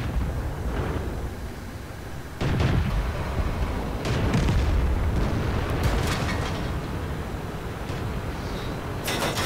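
Tank cannon shots from the World of Tanks video game, with a KV-1 heavy tank in battle, come as several loud booming blasts over a steady rumbling battle background, with no talking.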